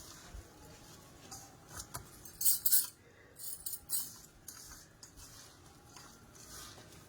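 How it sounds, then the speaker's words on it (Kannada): A spoon mixes ambode batter with salt in a bowl, giving soft, irregular scraping and light clinks that grow louder for a moment partway through, with no one talking. "ಇವಾಗ ಇದನ್ನು ಚೆನ್ನಾಗಿ ಮಿಕ್ಸ್ ಮಾಡ್ಕೋಬೇಕು"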